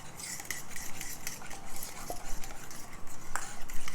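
Carbonara being stirred with Parmesan in a wok, with utensils scraping and clinking against the metal in an uneven rhythm of small taps and scrapes, fairly close and without talk.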